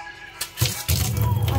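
Water is poured near a snakehead fish, starting with a few splashes and then turning into a loud, steady gushing pour that lasts about a second.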